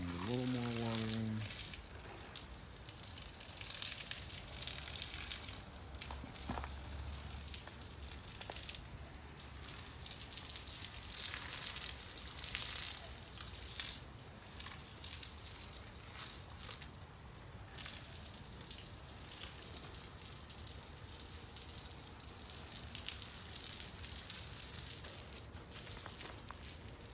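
Water running onto a concrete swimming pool shell being wet-cured makes a continuous soft splashing hiss, faint and steady throughout, with a voice heard briefly.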